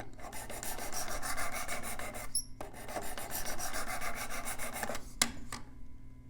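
A knife blade is drawn repeatedly across the abrasive stone of a Worksharp Precision Adjust sharpener, giving a steady, close rasping scrape with brief pauses and a sharp tap near the end.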